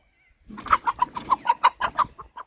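Backyard chickens with a rooster cluck in a steady run of short, close calls, about a dozen clipped notes in quick succession with no talk over them.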